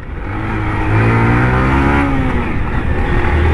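A small-displacement motorcycle engine revs up loudly close by, its pitch climbing and settling into a sustained buzzing drone with rising harmonic sweeps, with no voices over it.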